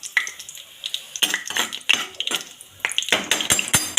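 Mustard seeds, cumin and chana dal frying in hot oil for a Telugu ivy gourd masala curry, with bursts of crackling sizzle, popping seeds and stirring scrapes against the pan over about four seconds, no talking.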